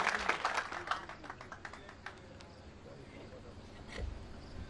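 Audience clapping at a stage ceremony honoring guests, a burst of applause that is loudest at first, then thins into scattered claps, with a voice over a loudspeaker.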